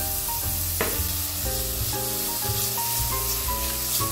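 Garlic and onion sizzle and get stirred in a pan, a steady frying hiss with soft scraping, under continuous background music with sustained tones.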